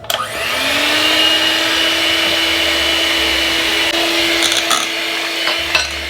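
An electric mixer whirs steadily as a quarter litre of cream is blended into vanilla cheesecake batter for a Basque burnt cheesecake, with a sustained motor drone and a few clinks of the beaters against the bowl toward the end.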